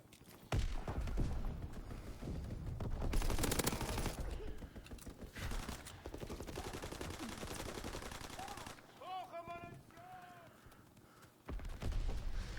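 Strafing-run machine-gun fire in the World War II shooter Call of Duty: WW2, with loud, dense bursts of rapid automatic shots sweeping across the scene and thin whistling tones sounding briefly near the end.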